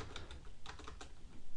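Rapid keystrokes on a computer keyboard as code is typed for an LWJGL shader tutorial, a short close burst of irregular clicks with no voices.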